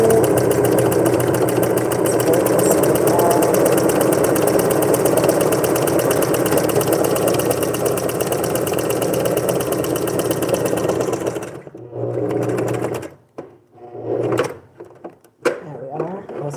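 A sewing machine stitches a fabric strap test strip with a loud, fast, continuous whirring hum for several seconds, then stops and gives a few shorter bursts as it starts and slows, with a voice talking over it.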